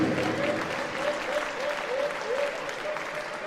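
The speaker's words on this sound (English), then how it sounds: "One applause for Sweden" Steady applause from a crowd in a sports hall after Sweden's bronze medal in goalball, dense and continuous for the whole stretch, with a voice faintly audible beneath it.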